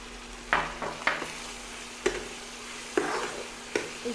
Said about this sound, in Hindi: 2 हरी मिर्च डालने के बाद इसको थोड़ी सी भून लीजिए